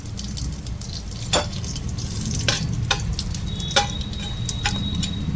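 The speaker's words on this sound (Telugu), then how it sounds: "ఆయిల్ హీట్ అయిపోయింది కదా వేసేసుకున్నాం" Cumin seeds and whole spices sizzling in hot oil for bagara rice, a steady close crackle with occasional sharp pops and light clicks of a spoon against the pan, no voices.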